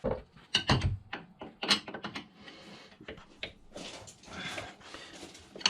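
A big screwdriver pries apart siliconed parts on a GP1200R personal watercraft being converted with a supercharged engine, giving irregular close creaks, clicks and scraping bursts of varying loudness with brief quiet gaps.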